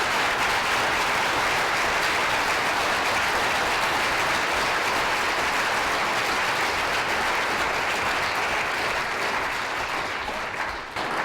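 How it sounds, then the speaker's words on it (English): An audience applauds after the final round of a law school moot court competition, sustained dense clapping from a roomful of people, steady and full for about eleven seconds before easing off at the end. "This case is submitted, and I'd ask for a round of applause for"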